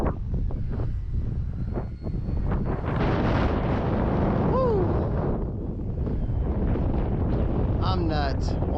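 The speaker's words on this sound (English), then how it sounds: "All this wind, gosh. Y'all can hear it." Strong gusty wind buffets the microphone in loud, roaring bursts during an RC flight of an Arrows RC Tecnam 2010 model plane, with a brief faint whine from the plane's motor partway through.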